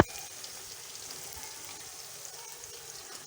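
A kilo of chopped onions fries in a pan for Delhi-style nalli nihari, giving a steady, close sizzling hiss that holds even throughout with no talking.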